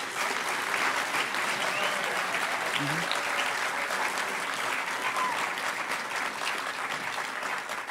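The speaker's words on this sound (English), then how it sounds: "give yourselves a round of applause" Sustained applause from a large audience at the closing ceremony of the Hackers On Planet Earth conference, dense clapping held at an even level throughout, with a brief murmur of speech within it.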